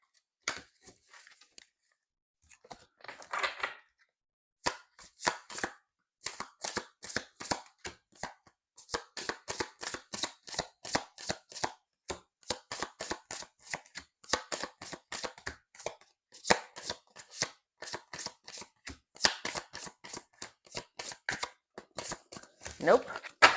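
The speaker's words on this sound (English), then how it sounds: "Shuffle one more time." Crisp repeated clicks and flaps of cards being shuffled, in uneven bursts that continue steadily at close range.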